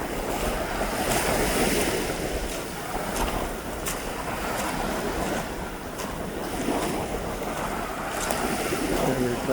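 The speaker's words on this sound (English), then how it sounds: "It's a very pure natural wind." Wind blows steadily at a Pacific beach park in Victoria, British Columbia, rushing and buffeting the microphone. Surf washes underneath, and there are occasional gusty swells with no talking.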